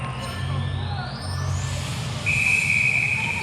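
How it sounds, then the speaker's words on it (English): A referee's whistle sounds one long, shrill blast to start a netball match between Malaysia and Isle of Man at OCBC Arena, ringing over arena crowd noise. "And there's the whistle."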